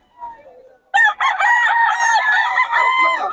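A Sweater-bloodline gamecock rooster crows loudly and close by at a market in Bocaue, in one long drawn-out call. A faint, softer sound comes just before it.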